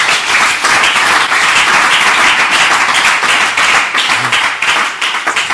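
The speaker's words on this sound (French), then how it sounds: "Acclame encore pour le Seigneur." Dense, loud applause and clapping fill a church service congregation, sustained throughout with no pause.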